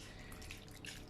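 Starchy pasta cooking water poured into a pan of macaroni and cheese with pasta sauce, a short, steady broadband splash and trickle heard up close without talk.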